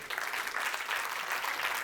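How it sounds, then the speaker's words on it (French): Audience applause fills a prize-giving ceremony at the SPEPS 2019 awards: dense, steady clapping that holds at an even level from start to finish, with no voices standing out. "vous les applaudissez"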